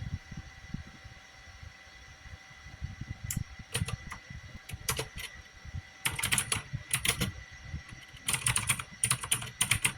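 Fast computer keyboard typing clatters close by in irregular bursts of key presses, growing denser toward the end over a faint background hum, with no voices.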